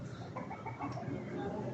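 A hen clucks briefly in a short burst of chatter with a steady background hiss.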